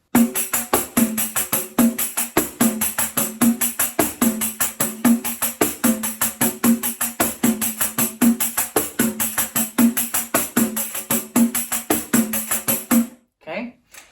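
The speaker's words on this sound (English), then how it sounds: "I'm going to show you the rhythm a few times first" A pandeiro drives a steady samba rhythm, dense jingles shimmering over a pulsing low thump on the head, played close and loud for about thirteen seconds before stopping.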